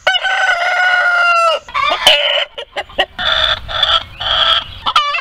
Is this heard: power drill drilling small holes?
no